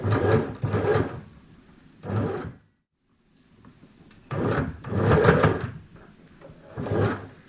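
Domestic sewing machine stitching a pleated fabric face mask, several bursts of mechanical whirring separated by short pauses while the work is turned, with a near-silent gap in the middle.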